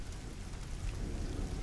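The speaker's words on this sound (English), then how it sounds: "Rain." Steady rain pours in the Life Is Strange video game, a dense continuous hiss with a low rumbling undertone, close and loud throughout with no voices.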